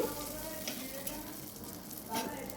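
A tempering of red chillies fried in oil for a ridge gourd chutney, a soft, close sizzle with light crackles and a brief stirring swell near the end.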